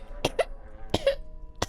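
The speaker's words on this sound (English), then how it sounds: "From the other room, you hear a feeble cough." Three short, weak coughs come from an unseen person in another room, spaced unevenly and fairly quiet.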